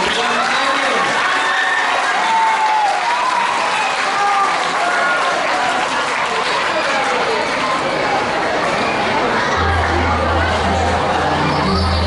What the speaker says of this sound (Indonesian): mari kita sambut dengan tepuk tangan yang meriah sambutan tari remo